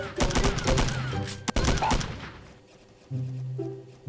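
Rapid bursts of gunfire in the mobile shooter Milk Choco, a dense rattle of sharp shots for the first two and a half seconds with one loud crack, then fading into quieter game sounds.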